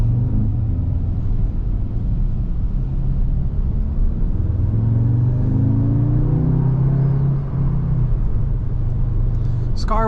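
A 2023 Audi S3 engine hums and rumbles steadily, rising in pitch as it accelerates, then settling, heard from inside the cabin.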